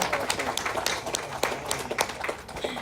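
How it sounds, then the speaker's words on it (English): Scattered applause for union pensioners at an ILWU Local 10 anniversary gathering, fairly quiet uneven clapping from a crowd lasting a few seconds. "Yes, round of applause."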